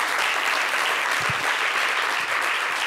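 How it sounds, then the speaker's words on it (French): A studio audience on a French-language TV show applauds for Miss Olivia Yassi with brisk, even clapping, close and steady, with no break in it. "On va applaudir pour Olivia Yassi."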